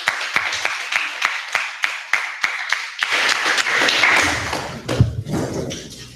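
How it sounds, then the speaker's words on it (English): Applause for young girls at an African resistance rally begins as slow, sharp individual claps, then swells into a dense, continuous burst of clapping from a crowd before tapering off with scattered claps. "Round of applause for these brave girls."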